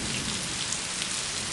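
September rain falls steadily in Guajará-Mirim, Rondônia, Brazil, a dense, even hiss of downpour on surfaces with no pauses and no voices.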